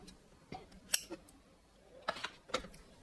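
Scissors snip ribbon for scrapbook bows: a few quiet, crisp metallic cuts spaced irregularly, close by, with no talking.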